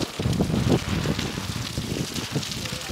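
Heavy rain driven by strong gusting wind during a storm in Hyderabad, a dense continuous roar of downpour and buffeting wind close to the microphone.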